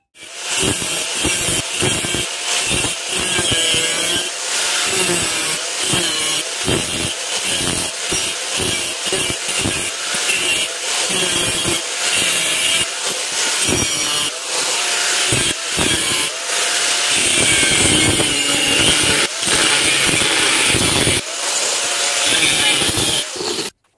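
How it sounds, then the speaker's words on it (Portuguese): A grinder fitted with a thin cutting disc bites into steel for making a knife, a loud, continuous harsh grinding whine with repeated rhythmic surges across the whole stretch, heard up close. "Para cortar, nós vamos cortar com um discozinho fino."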